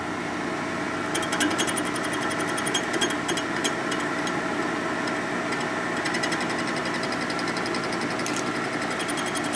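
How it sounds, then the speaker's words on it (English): Power tool cutting a stud on a 1972 1000cc Harley-Davidson Ironhead Sportster engine during a street tracker rebuild, a steady close grinding whine with rapid high-pitched chatter through most of the run. "Let's cut the stud."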